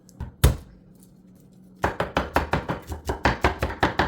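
A knife chops garlic on a cutting board, one sharp knock followed by a pause, then a quick, steady run of about a dozen close, crisp chops with no talking.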